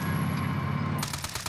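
A sudden burst of rapid gunfire in Call of Duty: Warzone cuts in over steady background noise, loud and close, firing in quick repeated bursts.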